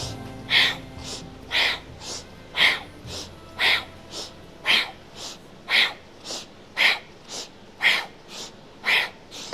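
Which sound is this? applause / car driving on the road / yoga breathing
yoga breathing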